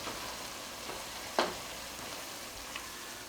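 Hamburger meat and onions brown in a pot, giving a faint, steady sizzle with one brief clink or scrape partway through.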